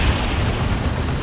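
A demolishing strike in the Warhammer 40,000 strategy game Dawn of War 2: a loud, dense, rumbling blast filling the whole moment with heavy low-end roar, with no talking.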